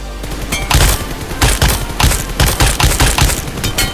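Rapid bursts of automatic gunfire from PUBG Mobile, a close, loud series of sharp repeated shots in quick clusters with brief gaps between them.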